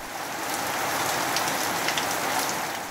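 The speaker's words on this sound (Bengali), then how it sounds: "কয়েকদিনের ভারী বৃষ্টির কবলে সিলেট বিভাগ" Heavy rain pours down in the Sylhet division, a dense and even hiss of drops hitting surfaces that stays steady and loud throughout.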